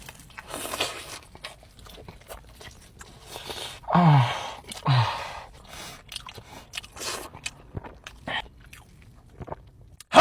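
Biting and chewing into the crispy, fatty crust of barbecued meat, with two louder crunches amid softer scattered chewing and mouth noises, close up.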